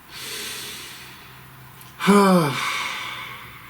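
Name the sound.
deep breath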